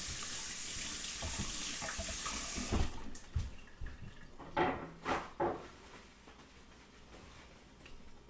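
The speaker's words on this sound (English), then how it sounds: "Let me wash my hands real quick." A kitchen tap runs for washing hands, a steady hiss of water that cuts off after a few seconds, then a handful of splashes and clunks at the sink, recorded at low level.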